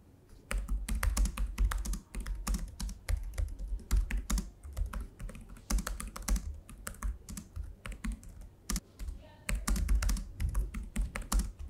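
Keys clicking on a Lenovo X1 Carbon Gen 10 laptop keyboard, close up, in fast uneven bursts of soft, muted taps with brief pauses, no speech.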